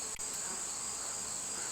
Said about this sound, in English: Bees are buzzing all over the place here.